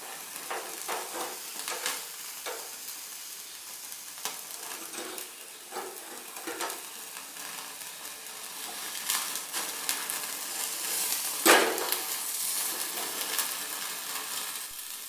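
Chicken leg pieces frying tandoori style in a pan give a steady low sizzle with scattered crackles and spatters, one sharper pop near the end, close and alone with no voices.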